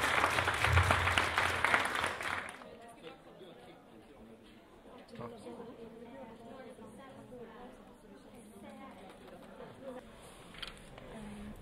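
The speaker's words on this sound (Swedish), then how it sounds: "Jag tycker att vi ger en varm applåd till det tävlande för att starta igång." Warm applause for competitors at a young designer competition, a burst of loud clapping for about two seconds that quickly fades, followed by quiet room chatter and an announcer talking.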